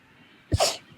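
A single sharp sneeze bursts out close by against a quiet background, a quick intake followed by a loud explosive release.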